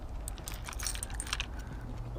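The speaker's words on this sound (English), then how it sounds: "Grab my keys." A bunch of car keys jangles and clinks in quick, bright metallic rattles for about two seconds, close by and alone.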